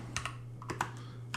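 A few soft, close keystrokes on a computer keyboard as a terminal command is typed, sparse and uneven clicks over a steady low hum.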